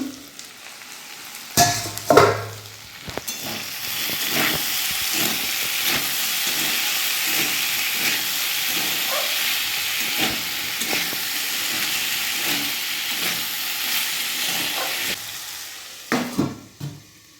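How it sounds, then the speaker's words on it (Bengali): Potatoes fry in a pan with a loud, continuous sizzling hiss that holds steady for a long stretch, with clattering utensil knocks near the start and end. "এখানে আলু ভেজে নিচ্ছি"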